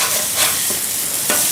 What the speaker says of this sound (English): I like to try to just kind of corral all these onions kind of in there.